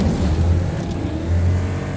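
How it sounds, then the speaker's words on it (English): High-displacement V8 race car in a racing video game, a steady low engine drone holding near constant loudness, with the deep tone swelling twice like light revving, alone without talk. "Use the high displacement V8, the one that sounds like it has a voice crack at max rev"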